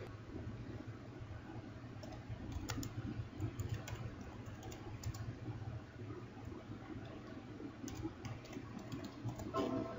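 Typing on a computer keyboard comes as steady, quick key clicks with occasional louder taps, faint and close against a quiet background hiss.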